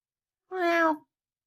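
A single short meow from a pet cat, close and clear, lasting about half a second and rising then falling slightly in tone, heard alone against silence.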